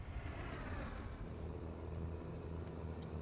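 Volkswagen Constellation truck engine in Euro Truck Simulator 2, a steady low rumbling drone at highway speed around 148 km/h, constant and moderately loud with no talking over it.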